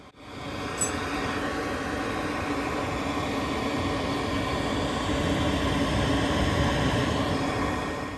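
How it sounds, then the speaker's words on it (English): A pet grooming dryer blows on a dog with a steady, loud, broadband whooshing roar that runs unbroken from start to finish, with no talking. "let's take a minute to actually listen to the sound of this dryer"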